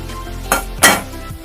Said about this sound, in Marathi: तेल गरम झाल्यावर कुरड्याचे तांदूळ थोडे थोडे तेलात टाकून तळून घ्या.